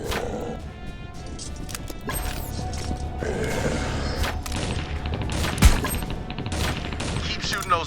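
Rapid, dense gunfire bursts from the video game Borderlands, sustained across the whole stretch with sharp crashing impacts and a loud spike midway, set against layered game music and effects.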